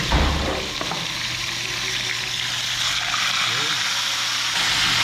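Fish fries in a hot pan with a steady, loud sizzling hiss and crackle that runs throughout, close and continuous, with a voice speaking over it.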